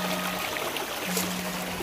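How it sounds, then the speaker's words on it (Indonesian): River water trickles steadily near a rural village among rice paddies, a continuous soft gurgling wash of moderate loudness with no other distinct sounds. "Gemerciknya suara air sungai,"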